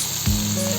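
Chopped onion hits hot oil left over from frying fish, giving a steady close sizzle that lasts through the short moment with no talking.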